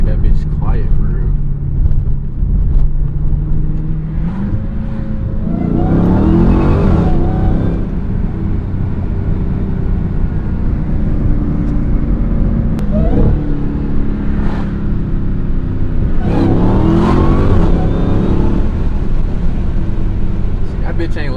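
A Dodge Hellcat with its mid muffler deleted rumbles with a loud, deep exhaust drone that swells in a couple of rev surges, while someone talks over it throughout.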